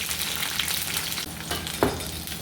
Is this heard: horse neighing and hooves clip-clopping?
no